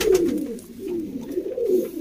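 A pigeon coos nearby in a low, throaty rolling call, repeated several times over a couple of seconds, clear and alone.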